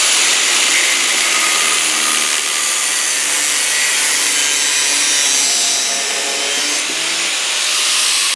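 A metal go-kart drift bar being cut with a power tool, a loud, continuous harsh grinding whine that holds steady for several seconds before stopping abruptly.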